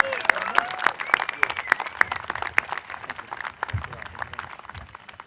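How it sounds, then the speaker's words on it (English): An audience at the 2019 UCI School of Medicine graduation hooding ceremony breaks into applause, a steady patter of many hands clapping in a large hall, with a voice speaking over it. "let's please give him another round of applause"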